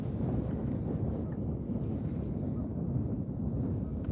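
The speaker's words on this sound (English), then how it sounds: "Kind of windy" Gusty wind buffets the microphone during a kayak fishing outing on the water, a low, uneven rumble with soft surges and no talking.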